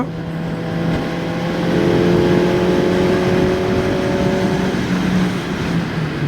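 A QJ Motor SRK 421 RR four-cylinder motorcycle engine revs loud and close, its tone climbing and holding under acceleration for several seconds, then easing slightly toward the end.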